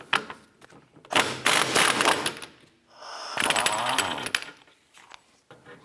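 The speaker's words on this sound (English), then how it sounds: "Use a 32mm socket to go ahead and remove the axle nut." A socket wrench with a 32mm socket loosening the rear axle nut on a 2004-2008 Acura TL, two bursts of loud, close grinding and rattling tool noise separated by a brief pause.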